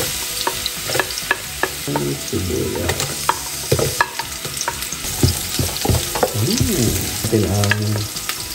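Ginger, garlic and onion sauté in hot oil for Bicol-style dinuguan, a continuous sizzle broken by sharp spoon strokes against the pan in an uneven rhythm, close and fairly loud, no talking.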